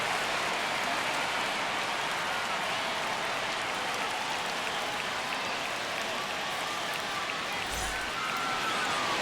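Stadium crowd noise in the MLB The Show 25 baseball video game at an Opening Day Red Sox vs Rangers game, a steady wash of distant cheering and murmur, fairly faint and unbroken.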